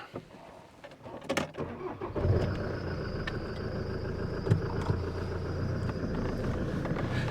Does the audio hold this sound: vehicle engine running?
yes